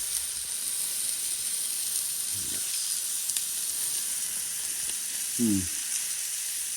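Steak searing in a hot pan, a steady bright sizzle and hiss holding throughout, close and even, with a couple of faint low bumps from handling.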